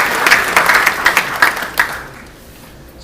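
A school event audience gives a short round of applause, close and lively individual claps that thin out and fade to quiet after about two seconds.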